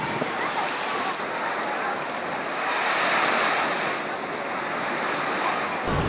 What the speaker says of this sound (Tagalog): Ang laki ng alon dun